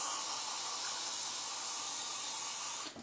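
Carb cleaner sprayed onto a 1996 Honda CBR F3 motorcycle carburetor, a steady close aerosol hiss lasting about three seconds before cutting off.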